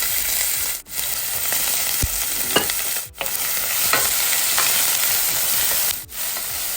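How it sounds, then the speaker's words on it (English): Onions sautéing in oil in a pan over medium-low heat give a steady sizzle, interrupted three times by brief dips and quiet scraping stirs, with no one talking. "we are sauteing these onions so we can dry it out"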